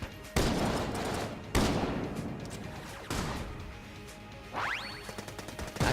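Gunfire from the video game Enter the Gungeon, several sharp loud blasts with long ringing tails, then a rising whine and quick smaller shots near the end.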